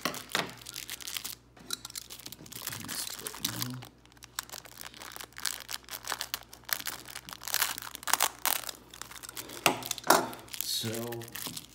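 Close crinkling and tearing of a cardboard and plastic baseball card rack pack box with snipping scissor cuts, uneven and continuous, while a person talks intermittently.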